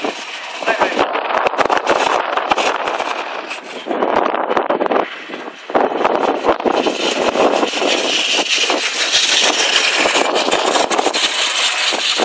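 A single-cylinder, seven-horsepower De Dion veteran car engine runs at the London to Brighton run, a loud continuous rattling chug with wind buffeting and crowd talk over it.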